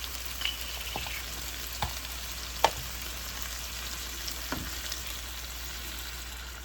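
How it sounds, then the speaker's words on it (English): Heavy cream simmering with salmon for pasta in a pan, a steady soft sizzle broken by a few faint scrapes of a stirring utensil, with no talking. "We'll let this cook, and I'll keep on stirring it until it get thick."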